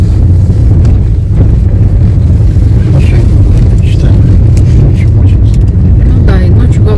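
A car drives along a road on a trip to a doctor in Kirov, giving a steady, loud low rumble of engine and road noise with wind buffeting the microphone throughout.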